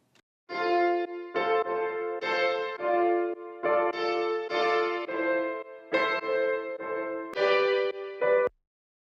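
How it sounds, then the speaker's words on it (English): A somewhat rough-toned piano plays a steady run of chords within a produced track, each one struck cleanly and held, close and solo with no voices. "On top of all this, we have a piano."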